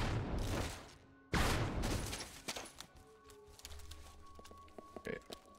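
Gunshots fired in the video game Resident Evil Zero HD Remastered, two sharp blasts a second or so apart followed by fainter game clatter and ambience.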